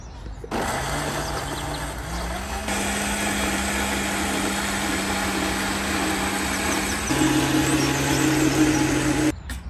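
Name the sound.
mixer grinder grinding wet masala paste with water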